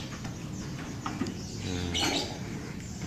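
Small caged songbirds being packed for shipping give a few faint chirps and squawks amid handling rustle and low background noise.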